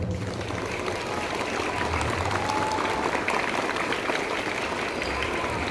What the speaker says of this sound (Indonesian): Tepuk tangan untuk min 1 Lombok Tengah.